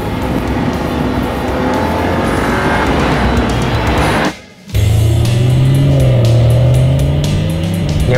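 A BMW 3 Series engine revs loudly at high speed, briefly dropping out, then returning with a deep, strong drone and faint tire squeal.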